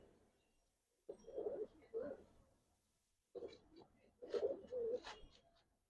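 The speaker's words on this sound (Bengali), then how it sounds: "দেখেন কবুতর" Giribaz pigeons coo softly nearby in two clusters of low, throaty, rolling calls separated by a quiet pause, faint overall.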